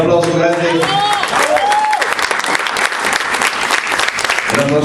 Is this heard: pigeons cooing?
no